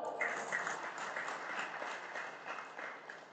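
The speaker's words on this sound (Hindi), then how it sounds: "तालियां बजाओ." An audience at a political speech bursts into applause, a fairly quiet but continuous patter of many hands clapping for a few seconds, with no voices on top.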